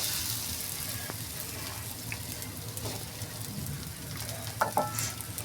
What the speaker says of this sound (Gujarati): હવે આપણે રોટલો શેકવા દઈશું